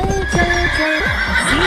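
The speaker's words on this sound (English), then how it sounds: "H for horse." A horse whinnies loudly and close, a shaky descending neigh with hoof clops mixed in.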